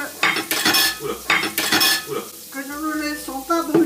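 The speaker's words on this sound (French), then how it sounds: "dans cette huile chaude, nous y mettons vite l'ail que nous avons préalablement haché" Chopped garlic hits hot oil for migas, bursts of loud sizzle and spatter alternating with clinks of a utensil against the pan, followed by fainter scraping and ringing metal tones.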